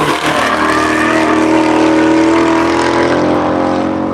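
A Roush car on its first flying lap around the Hedge Hollow track during the Tire Rack One Lap of America, its engine droning loud and steady close by with a sustained tone and no talk.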